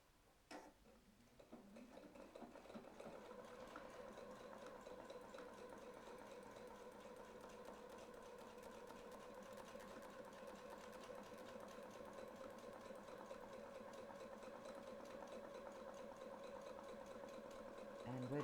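Sewing machine stitching steadily around a circle template, a soft continuous mechanical whir with fine rapid ticking that runs for the whole stretch after a brief start, alone and fairly faint.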